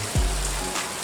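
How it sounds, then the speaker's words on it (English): Heavy rain pours down outside an open shop door, a steady broadband hiss of downpour with a brief low thump near the start, heard without talk. "it started pouring down rain"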